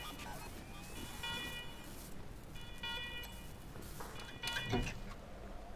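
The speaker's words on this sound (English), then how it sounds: "The computer beeps and whirs for the first time in years." A dusty old computer terminal powering up in Wasteland 3 gives three drawn-out bursts of bright, steady electronic tones, spaced about a second apart, over a constant low hum and background noise.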